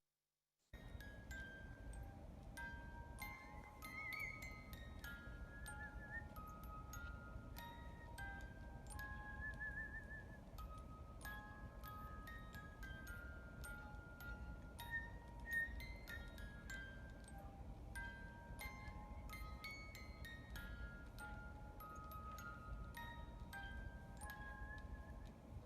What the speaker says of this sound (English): I hope you can hear how he can very well whistle with the music.